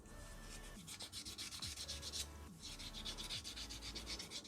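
Fine sandpaper rubs back and forth on a BRT pulley in steady, close strokes, a continuous rasping scrape with a regular rhythm and no talking.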